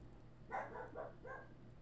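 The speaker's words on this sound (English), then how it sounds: "My dog is barking for the most part." A single dog barks faintly in the distance indoors, three or four short muffled barks in a quick run against a quiet background hum.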